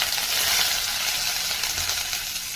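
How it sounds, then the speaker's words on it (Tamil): Curry leaves and dried red chilies fry in hot oil for beetroot poriyal, a brief, close, constant crackling sizzle with no speech over it. "நல்லா வணங்கட்டும்."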